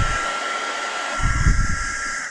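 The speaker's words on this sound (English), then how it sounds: "Got to use the old hair dryer." A hair dryer blows steadily with a constant whirring hiss, close and fairly loud, with some extra low rumbling buffeting partway through.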